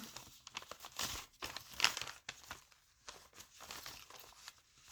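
Packaging of an advent calendar being opened, quick bursts of crinkling and tearing paper and plastic in irregular rustles, close but soft.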